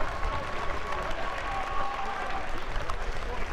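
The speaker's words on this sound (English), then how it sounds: "getting a fantastic ovation from the crowd" A crowd at the BritBowl 2023 Division 2 American football championship, Shropshire Revolution vs East Kent, applauds a player walking off the field. Loud, dense clapping runs continuously through the whole stretch.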